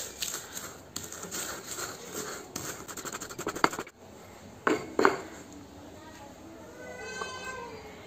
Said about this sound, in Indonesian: Kita langsung ulek.